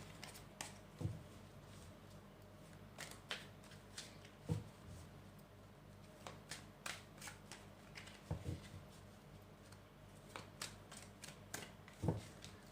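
Tarot cards are drawn and shuffled from a deck during a pick-a-card reading, giving soft papery flicks and slaps scattered through the clip, faint and close, with no talking.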